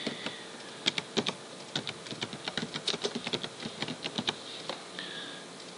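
Quick clicking keystrokes on a computer keyboard while a folder name is typed, a steady near patter of individual taps with brief pauses, alone without talk.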